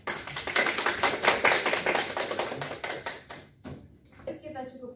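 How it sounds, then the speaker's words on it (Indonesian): Classroom applause for a student after a discussion of developed and developing countries: a dense run of hand claps for about three and a half seconds, then fading into quieter room noise and a brief voice. "beri tepuk tangan"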